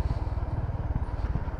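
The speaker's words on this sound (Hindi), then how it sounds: "एग्जॉस्ट नोट तो मतलब डैम यार what a cool exhaust note" Exhaust note of a Honda RS 350 motorcycle, a deep, rhythmic thumping idle with evenly spaced low pulses, close and steady, with no talking over it.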